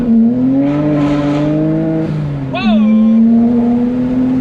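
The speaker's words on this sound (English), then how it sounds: "let's try doing a first gear pull again" A 2009 BMW 135i with the N54 engine accelerates hard in first gear, droning loudly as the revs climb, then briefly dips at the upshift and pulls on. An excited exclamation rides over the engine near the shift.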